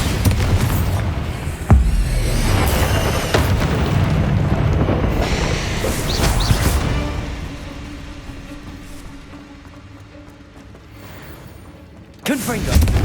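Explosion spell effects in the Hogwarts Legacy video game: heavy booms and rumbling blasts with mechanical creaks and debris, loud and sustained, dipping into a quieter stretch before a sudden loud burst near the end.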